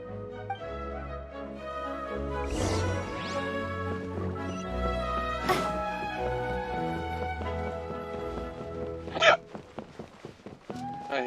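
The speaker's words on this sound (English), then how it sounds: "I hiccup." A video game character hiccups during a village-head scene, with sharp hiccup bursts over steady background game music and a cluster of quick hiccups near the end.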